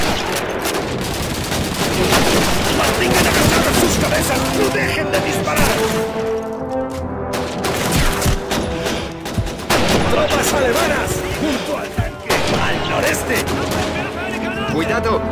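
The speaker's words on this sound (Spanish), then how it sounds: "¡Una MG-42!" Heavy MG-42 machine gun fire in Call of Duty 2 mixes with other battlefield gunfire in a dense, loud, continuous barrage of rapid bursts, while soldiers shout over the din.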